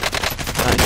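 A rapid burst of automatic gunfire from Call of Duty Warzone, several close, loud shots in quick succession within a second.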